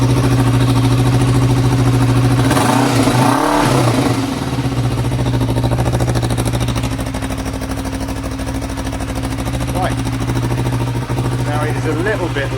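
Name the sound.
Kawasaki ER5 motorcycle engine running and revving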